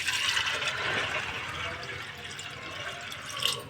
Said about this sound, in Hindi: और फिर इसमें डालूंगी मैं पानी